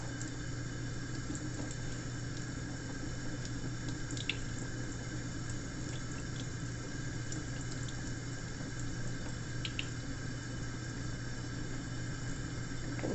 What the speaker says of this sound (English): now I just need to let the water run on it